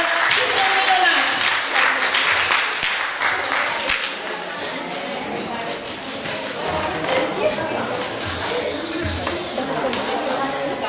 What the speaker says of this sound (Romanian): Așa că haideți să-i primim cu aplauze.